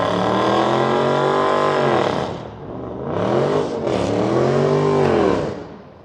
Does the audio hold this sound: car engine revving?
yes